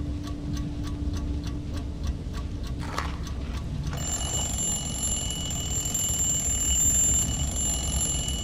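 Alarm clock in the video game Dishonored 2 ringing with a steady, rapid repeating tick-like bell pattern for several seconds, followed by a sustained high electronic ringing tone over low game ambience.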